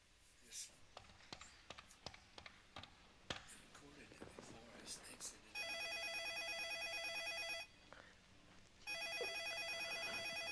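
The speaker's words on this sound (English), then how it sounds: "Making a phone call." A telephone rings with a steady electronic ring in two long bursts near the end, after a stretch of clicks and taps. The ringing is loud and close and plays with no talk over it.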